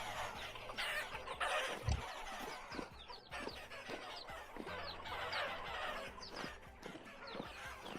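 Chickens clucking around hen boxes in the Vintage Story video game, several birds making busy overlapping clucks and short calls close by, with no voices over them.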